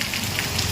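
Steady rain patters on surfaces close by, a dense, even hiss that is just beginning to ease, with no voices.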